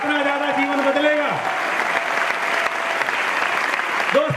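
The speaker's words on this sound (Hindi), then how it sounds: "तालियां बजाने से डरो मत, जितनी तालियां बजेंगी उतना ज्यादा जीवन बदलेगा" An audience claps at a motivational stage event, loud dense applause filling the whole stretch, with a voice speaking over it at the start and again at the end.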